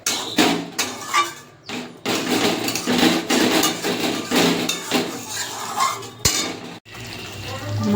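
Spice paste for cauliflower rezala being stir-fried in a pan, with a metal spatula scraping and clanking against the pan in repeated close, busy strokes and a faint sizzle underneath.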